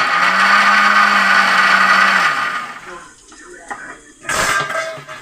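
An eight-year-old electric mixer grinder runs with a loud, steady motor whine for about two seconds, then shuts off abruptly; quieter knocks and a voice follow.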